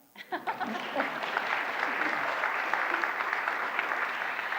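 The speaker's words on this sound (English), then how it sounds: "You could applaud." Congregation at a Shabbat installation service for a cantor breaks into applause, starting with a few distinct claps that quickly swell into sustained, full clapping from a sizeable crowd.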